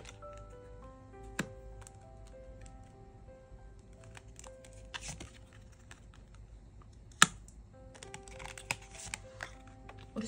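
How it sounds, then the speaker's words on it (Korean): Tarot cards being drawn from a deck, heard as soft close-up clicks, taps and a few sharp snaps against a quiet background with a low steady hum, without talk. "카드 뽑아보도록 하겠습니다."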